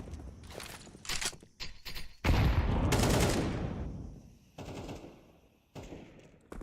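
Bursts of AK rifle fire in a Counter-Strike match: loud, close, rapid cracking shots in short strings, with one heavier burst that trails off, followed by a few more quick shots.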